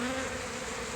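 A honey bee swarm hums close by in a steady, dense drone, a continuous buzz with a low tonal hum running through the whole second and no voices.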